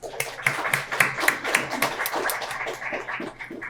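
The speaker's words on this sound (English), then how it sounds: "Let's give them a great round of applause." A small group claps steadily at a school district student-of-the-month breakfast, scattered hand claps blending into modest applause in a room, fairly close.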